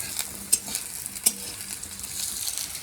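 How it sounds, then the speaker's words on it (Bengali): Potatoes fry in a pan with a constant, moderate sizzle. Two sharp utensil clinks break through as they are stirred. "এই দেখো এখানে আলু ভাজা হচ্ছে"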